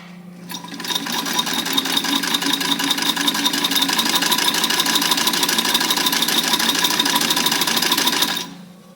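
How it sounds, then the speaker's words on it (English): A 1927 Singer 127 sewing machine stitching through fabric runs as a steady, fast mechanical chatter for about eight seconds, loud and close, then stops abruptly. "now I'm going to go ahead and stick some fabric in there and try to get her to sew"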